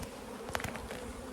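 A dense swarm of bees hums steadily around an opened beehive during hive splitting, with a few brief louder passes close by.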